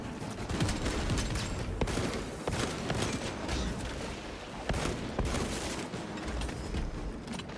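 A gun fires in rapid, dense bursts in a Warhammer 40k mobile game, a loud continuous barrage of sharp shots with crackling impacts, steady and close with no pauses.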